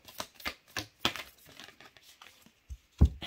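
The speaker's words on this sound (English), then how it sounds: "Let's get one more shuffle." Tarot cards being shuffled by hand, a series of quick papery riffles and slaps in short bursts with brief pauses, close and fairly soft, ending with a sharper knock, no speech.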